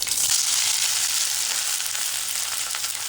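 A big bunch of mint leaves fries in a little oil, giving a steady, close, dense sizzling hiss that holds evenly throughout, with no talking.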